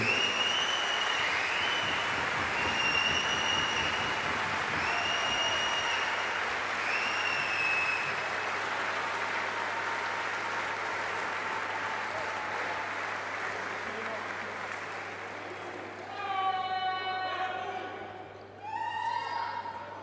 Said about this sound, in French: En attendant, on va pouvoir les applaudir